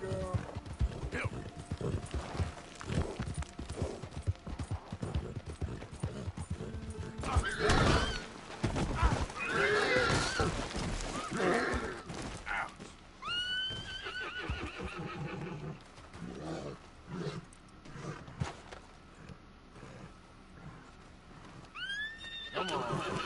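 A muddy mare neighing several times with hooves clip-clopping nearby, loud whinnies rising over steady hoof and movement noise.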